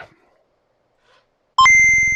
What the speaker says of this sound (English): Calculating computer activated. Computers. Beeps.